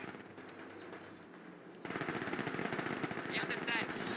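Machine gun squad firing in the Company of Heroes 2 strategy game, a rapid burst of automatic gunfire that grows louder after a brief quieter stretch, with game voices and battle noise mixed underneath.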